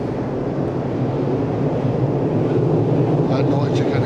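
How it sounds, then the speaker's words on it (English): A massive air conditioning system aboard the Carnival Splendor cruise ship roars as a loud, steady broadband rumble for the whole stretch, with no change in level. "That noise you can hear is the massive air conditioning system"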